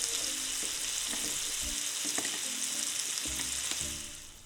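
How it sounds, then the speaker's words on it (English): Fish for a burger fries in a pan, a loud, steady close sizzle and crackle with occasional clinks and bumps of a utensil, easing off at the end, with no speech. "Let's put it in the pan and cook it on both sides."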